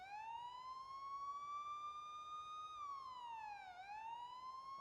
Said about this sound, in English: So I've unlocked police siren.